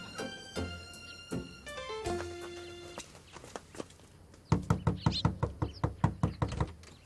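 A series of sharp knocks on a hotel door sound in quick succession, early ones mixed with ringing tones, then a fast, loud run of about a dozen raps near the end.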